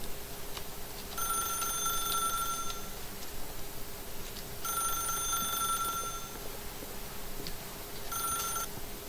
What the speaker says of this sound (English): Just a few more rings.